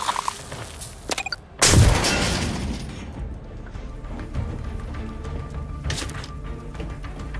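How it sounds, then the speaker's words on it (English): A loud explosion in the video game The Outer Worlds 2 bursts out suddenly after a brief quiet stretch, followed by a long rumbling decay and scattered debris-like impacts beneath the game's ambient noise. "What's that? An explosion?"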